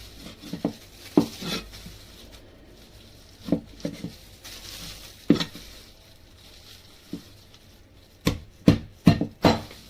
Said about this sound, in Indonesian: Lalu kita cincang